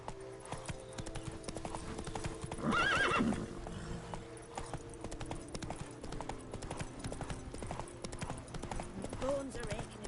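Roach the horse trots along in The Witcher 3: Blood and Wine on PS5, hooves clip-clopping steadily with a loud whinny early on, a voice speaking over the hoofbeats.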